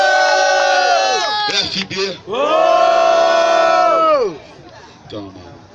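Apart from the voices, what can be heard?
crowd cheering and shouting at a rap battle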